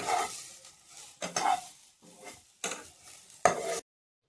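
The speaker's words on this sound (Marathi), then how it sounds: "सर्व टमाटर टाकून घ्यायचा आहे सर्व मसाला छान असा परतून घ्या" Onion, tomato and masala stirred and fried in a pan for a restaurant-style soybean curry, with close scraping stirs over a soft sizzle in short separate strokes, no voices.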